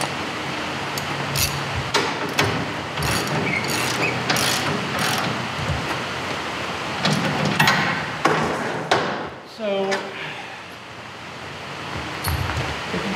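Hardware on a flatbed glass trailer is cranked tight with a ratchet: rapid, close metallic clicking in bursts, then clanking metal handling near the end.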